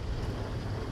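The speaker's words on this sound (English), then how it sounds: "The bubbling sound you can hear stems partly from the magnesium." Molten steel churns and bubbles as magnesium added through chutes vaporizes at over 1,500 degrees, a dense, continuous roaring seethe filling a short moment with no voices.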